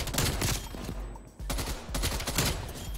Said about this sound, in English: Look, I just bursted that guy. One burst.